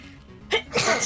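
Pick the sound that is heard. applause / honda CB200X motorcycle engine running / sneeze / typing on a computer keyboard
sneeze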